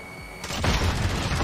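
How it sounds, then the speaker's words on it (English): A grenade goes off in the Warzone video game: a sudden loud blast about halfway through, followed by a rumbling, crackling decay, with no voices. "grenade."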